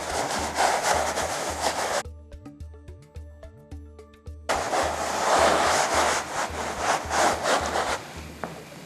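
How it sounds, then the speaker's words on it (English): Rubbing and buffing strokes as glaze is worked off a textured sandstone plaster wall, a steady close scrubbing that stops briefly midway and then resumes. "I'm just basically buffing off the glaze."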